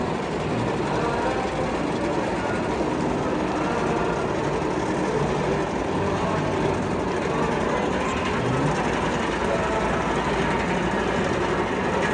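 A steady mechanical rumble and clatter of a coaster train climbing the lift hill at Six Flags Magic Mountain, continuous and fairly loud with crowd noise around it.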